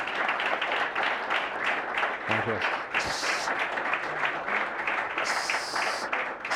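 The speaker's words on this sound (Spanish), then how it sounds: "yo pediría a todos un aplauso enorme" An audience on a golf television show applauds in a sustained wash of clapping, with a brief spoken word and a few short electronic tones over it.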